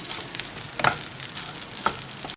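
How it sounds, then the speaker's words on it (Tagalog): Egg fried rice stirred in a hot pan gives a steady sizzle with a few scraping strokes of the spatula mixed in, close and continuous. "haluin lang lahat."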